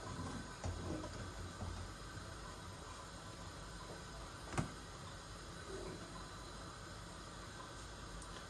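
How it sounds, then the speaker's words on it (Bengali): Hot water poured into a cooking pot of pangas fish and bean seed curry, giving a faint, steady watery hiss that runs on for several seconds, with one soft knock midway. "গরম পানি দিছি তো এই দেখো বলো কাটছে"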